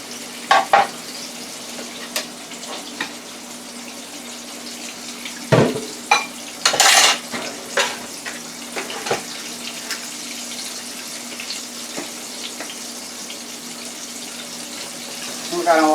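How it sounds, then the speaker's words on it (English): A running kitchen tap pours water over hands at a sink, a steady hiss with occasional splashes and clatters, close and moderately loud, no talking. "I'm going to wash my hands."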